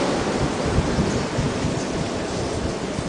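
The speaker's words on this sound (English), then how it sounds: "Listen to that wind." A March blizzard's wind blows hard and steady outdoors, a dense continuous roar with slight gusting and no speech.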